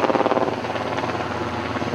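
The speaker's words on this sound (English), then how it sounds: "as in the helicopters going by" Helicopters fly past near a busy commuter airport in Auburn, Washington, their rotors making a loud, steady rhythmic chop that fills the whole scene.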